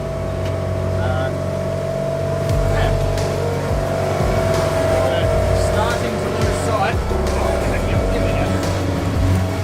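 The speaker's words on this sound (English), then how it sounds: "Nothing has given me any worries at all. That engine's just humming." A 34ft timber boat motoring on open water, its engine humming steadily throughout as a continuous low drone beneath someone talking over it.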